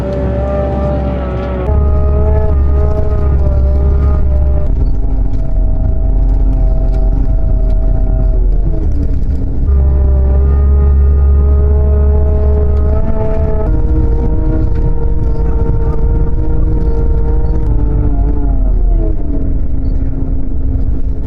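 Large vehicle engine rumbling steadily as a bus drives through the abandoned Arctic mining settlement of Pyramiden, Svalbard, with a loud, continuous low drone and shifting engine pitch as it changes speed, no talk.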